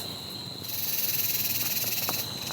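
Crickets and other insects chirp at night beside an old quarry trail near a cliff face, a dense, steady high trill that swells and pulses, with a faint click or call near the end and no voices.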